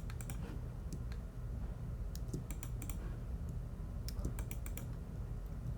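Computer keyboard shortcut presses during 3D modeling loop cuts: sparse clusters of crisp key clicks in short bursts over a steady low hum, close and moderately quiet, with no talking.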